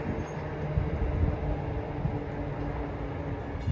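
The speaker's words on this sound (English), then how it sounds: "the gates are going down for train 1617, Hoboken to Spring Valley, from the porch of the Oradell station" An NJ Transit train on the Pascack Valley Line runs at Oradell station. Its steady, rumbling rail noise is close and constant throughout, with no voices.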